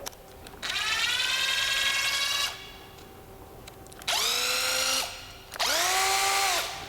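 A cordless impact driver rated at 1,750 inch-pounds of torque, running in three loud close bursts, each rising in pitch as it spins up, then holding a whining buzz before cutting off, with quiet gaps between.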